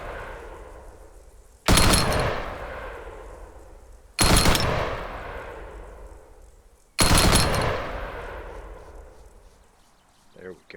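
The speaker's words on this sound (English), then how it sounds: "the last weapon we're going to look at is the M240" Three loud, close bursts of M240 machine gun fire in ArmA 3 with the RHS United States Armed Forces mod, each followed by a long echoing decay into quiet.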